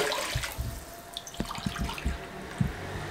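Regular milk, two and a half cups, pours into a pot for dhaba-style chai, a continuous liquid splash and trickle with a few drips, close and fairly quiet.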